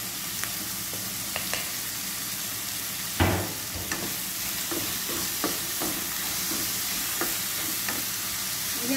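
Squid adobo fries steadily in a pan, a constant close sizzle broken by scraping stirs and one louder splash as tomato and chili go in.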